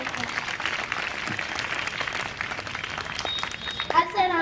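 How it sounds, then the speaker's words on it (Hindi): A room of alumni at the golden jubilee reunion of IIT Kanpur's 1965 batch claps for a teacher, a steady wash of applause with voices talking over it toward the end. "अब सर के लिए ताली हो जाएगी"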